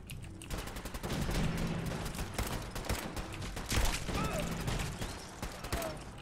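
Dense gunfire fills a battle in the game Fallout 4, rapid overlapping shots and automatic bursts sounding loud and close throughout, with shouting voices mixed in.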